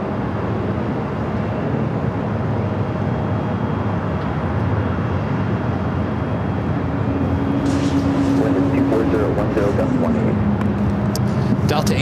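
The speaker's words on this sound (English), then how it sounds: "United Airlines flight 198, 7879, and Dreamliner heading back to Shanghai, now taking off on the south side." A United Airlines Boeing 787-9 Dreamliner takes off at LAX with a steady, loud roar and a rising whine late in the run, while a voice talks over it.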